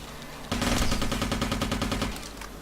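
Rapid automatic gunfire from a robot in the video game Interstellar Marines bursts in suddenly and rattles on loudly for about a second and a half before trailing off.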